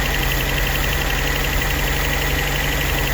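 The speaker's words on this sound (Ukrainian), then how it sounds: "щось плавають обороти холостого ходу. От до того, що почти глох мотор" A VAZ 2109 engine idles roughly and unevenly, as if close to stalling, a loud, steady mechanical drone with a faint knocking pulse running through it and no speech.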